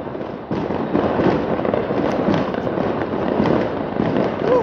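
New Year fireworks explode on a cloudy winter night in Croatia in a dense, continuous barrage of crackles and bangs, loud and close throughout.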